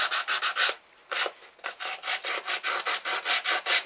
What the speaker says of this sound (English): Just rough it up, scuff it up.